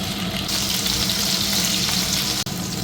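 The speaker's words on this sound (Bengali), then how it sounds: "এবার কেটে রাখা পেঁয়াজ, রসুন, লঙ্কা দিলাম।" Chopped onion, garlic and chili fry in hot oil with dried chili and panch phoron spices, making a loud, dense, continuous sizzle close by with light stirring and no talk.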